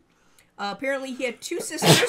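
A person talks indoors and then lets out a sudden, breathy sneeze at the end, loud and close, following the speech.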